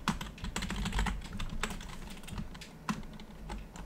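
Computer keyboard typing while editing .ini settings files for ARK, a close run of irregular key clicks with brief pauses and a few sharper strikes, no talk.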